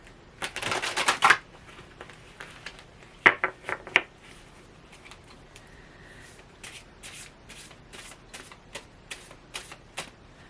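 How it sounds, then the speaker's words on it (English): Tarot cards are shuffled in quick riffling bursts, with a loud flurry at the start, a few sharp clusters a few seconds later, then a long run of lighter, evenly spaced card flicks close to the microphone. "shuffle it one more time"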